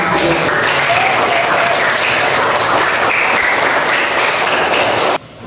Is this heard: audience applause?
yes